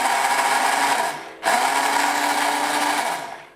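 An electric hand blender runs empty with nothing in it, giving a loud, steady high-pitched motor whine. It cuts out briefly, restarts at full speed, then winds down at the end.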